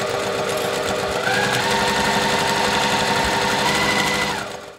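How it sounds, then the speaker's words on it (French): Sewing machine running steadily as it stitches close to the edge of bias binding on the wrong side of fabric, a continuous close whirring hum for nearly five seconds before it tapers off. "on fait un point d'arrêt et on va coudre au plus près du bord de notre biais"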